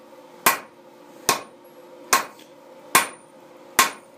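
A blacksmith forge-welds an axe blade, with five loud, evenly spaced hammer blows ringing sharply on hot steel, each decaying quickly into a quiet background.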